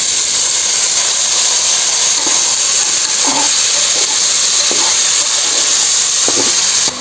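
Mutton frying in a pan with onion, tomato and garlic masala, a loud steady sizzling hiss throughout with a few faint knocks, no voices.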